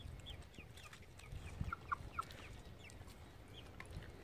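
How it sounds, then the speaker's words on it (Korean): Chickens cluck softly while pecking at fish bones and scraps left from a spicy fish stew, sharing the food with a dog outdoors; several short, scattered clucks sound at moderate distance over a low, steady background, with no talking. "매운탕 먹고 이 뼈랑 찌꺼기는 이제 지금 다 닭이랑 복실이 줬는데 다 같이 사이좋게 잘 먹고 있네요."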